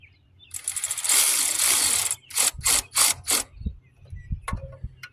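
An impact gun drives bolts in a dense rattling burst of hammering, followed by several short sharp bursts in quick succession, close and fairly loud with no talking.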